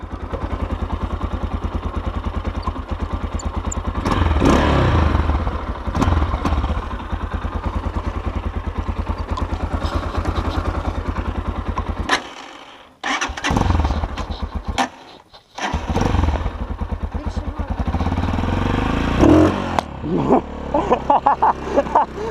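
A Tekken 250 motorcycle is started and runs, its single engine idling with a steady loud putter, then cutting out briefly around midway before catching again and settling back into a rough idle.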